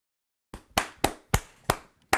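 Six sharp hand claps at an uneven pace, close and dry, following a moment of silence.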